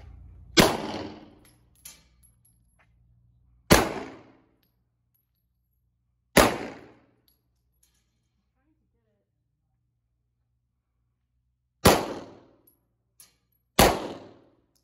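A SIG P226 Extreme pistol fires at steel targets on a range, five sharp, loud shots spaced a few seconds apart, each with a ringing metallic clang and a short decay, close by with no talking between them.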